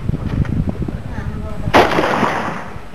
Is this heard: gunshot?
yes